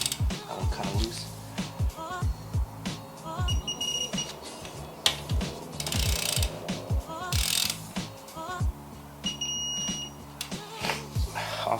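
A torque wrench ratchets in quick clicking strokes while tightening connecting rod bolts on a Mazdaspeed engine, close and crisp, with brief pauses between sets of clicks and faint high beeps.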